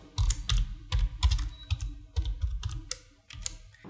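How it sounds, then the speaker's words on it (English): A computer keyboard is tapped in quick irregular runs of clicky keystrokes, close and clear with brief pauses between bursts. "Click over here and type anything whatever you want."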